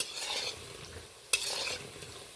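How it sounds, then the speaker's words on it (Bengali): Pumpkin flower pakoras deep-fry in oil, making a quiet, even bubbling hiss with one sharp metallic clink from a strainer or utensil partway through, close and unvoiced. "এই দেখুন ডোবা তেলে কুমড়ো ফুলের পকোড়াটা আমার রেডি হয়ে গেছে"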